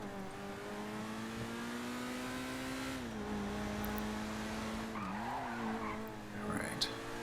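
A car in GTA Online drives with a sustained engine drone that shifts pitch as it speeds up and slows, with a brief tire squeal near the end, mostly steady and moderately faint.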